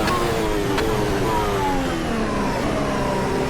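A 2017 Ferrari SF70H Formula 1 car downshifts, its engine note stepping through falling pitches in a loud, continuous high-revving whine with no pause.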